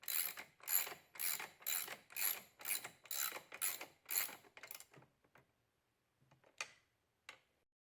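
Ratchet clicking in a steady run of about a dozen quick, even strokes while tightening the battery side bracket in a car, slowing and thinning out, then two isolated clicks after a short pause; close and fairly quiet.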